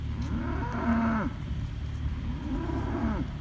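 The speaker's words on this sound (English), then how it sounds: "Is that why you're mooing?" Cattle being fed hay bales on a farm moo in two long, loud, drawn-out calls, each lasting about a second, close by over a low background rumble.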